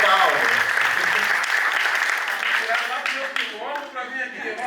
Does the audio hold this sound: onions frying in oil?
no